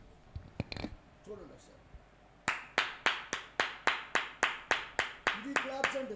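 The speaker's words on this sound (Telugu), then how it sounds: "ఇది క్లాప్స్ అండి." Hands clap hard and evenly about a dozen times in a steady rhythm, loud and close, at a youth conference sermon, after a few scattered claps and a brief voice at the start.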